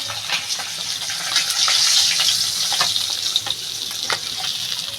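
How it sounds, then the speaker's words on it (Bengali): Pieces of fish fry in hot oil in a pan for a Bengali fish curry, a steady, close, crackling sizzle with frequent small pops and spatters throughout. "এরকমই লাল করে ভেজে নেব এবার এই মাছ পরের মাছটা দিয়ে দেব"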